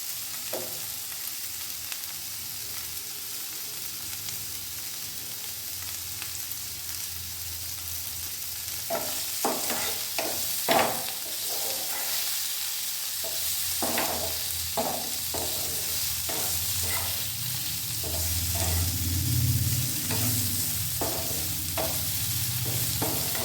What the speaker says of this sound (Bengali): এবার এগুলোকে ভালো করে লাল লাল করে ভেজে নেব